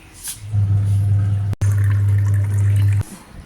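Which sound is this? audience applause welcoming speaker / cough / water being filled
water being filled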